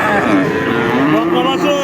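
A Deshal breed dairy cow lows in drawn-out, tonal moos that run almost continuously, loud and close, at a cattle market where it stands with its calf.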